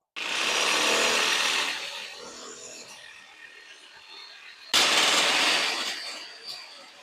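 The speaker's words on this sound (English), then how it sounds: "So I'm just gonna use the Sawzall and cut it out." A Sawzall reciprocating saw cuts through a lower suspension part on a 2008 Acura MDX, a loud, steady buzzing burst that fades, then a second close, harsh run of cutting starting partway through.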